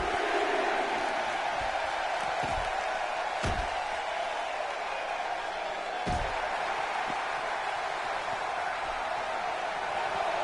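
An arena crowd at an indie wrestling show roars steadily in a continuous wash of cheering, broken by a few sharp slams from the ring as wrestler Rock and Roll battles at ringside.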